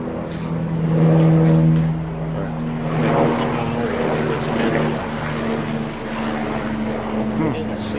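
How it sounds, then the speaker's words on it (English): An aircraft passes overhead near Richland Airport in Richland Center, Wisconsin, a loud steady engine drone that swells around the first two seconds, with voices talking underneath. "Is there a helicopter coming in here?"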